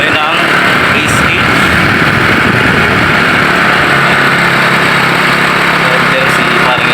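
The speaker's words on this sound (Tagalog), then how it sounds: "motor niya yung gamit natin mga idol" A motorcycle engine running close by, a loud, steady buzzing drone that holds evenly throughout with no pauses.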